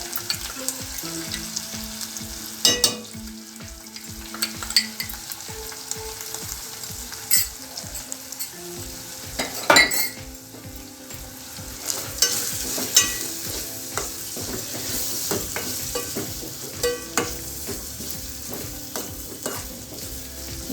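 Onions frying in a pan for a ridge gourd curry, a soft continuous sizzle broken by frequent sharp scrapes and clinks of a spoon stirring, steady and close throughout with no talking.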